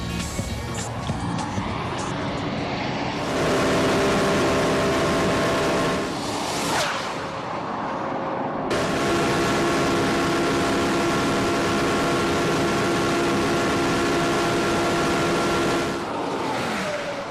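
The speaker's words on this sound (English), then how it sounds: "Now, the second lap for Porsche." Porsche Carrera GT sports car lapping a race track at high speed, its engine roaring loud and steady with rising revs, a brief dip near the middle before it surges again.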